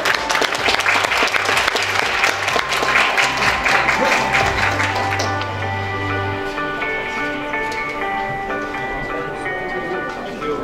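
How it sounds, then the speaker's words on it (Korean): Audience applause welcoming a speaker at a press conference session, sustained clapping across the hall that tapers off, with a musical jingle and tones rising underneath toward the end. "please welcome him with a big round of applause"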